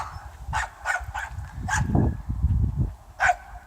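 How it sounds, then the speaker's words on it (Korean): A small puppy barks repeatedly in short sharp yaps close by, several barks spaced across the moment over a low background rumble and handling noise. "조그만 강아지고 되게 잘 짖네요"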